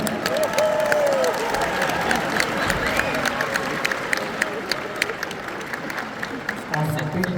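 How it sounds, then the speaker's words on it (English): Audience at a fan expo Q&A breaking into a round of applause, dense sustained clapping from a large crowd with some cheering, with voices audible in the background throughout. "Round of applause"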